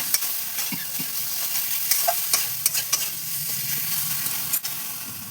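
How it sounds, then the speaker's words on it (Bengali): Spice masala for a soya and egg pulao is stir-fried in a pot over a gas flame, a constant close sizzle punctuated by frequent sharp spatula scrapes and taps. "এবার এই মশলাটা আমি ভালো করে কষাবো।"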